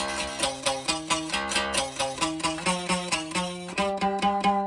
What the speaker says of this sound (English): Every note buzzes. Every note buzzes except for the highest one.